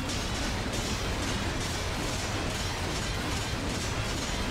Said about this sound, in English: Explosions, cool